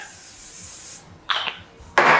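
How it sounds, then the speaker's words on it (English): Cooking oil spray hissing onto a heating pan in a home kitchen, two short close bursts after a fading steady hiss. "I'm gonna put a little bit of oil, or you can just use olive oil, whatever works well for you, or a cooking spray."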